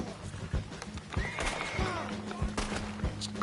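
A horse in the Red Dead Online video game whinnies sharply amid galloping hoofbeats, with scattered gunshots cracking nearby and someone talking over the action.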